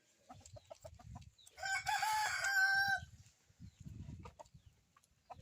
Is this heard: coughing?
no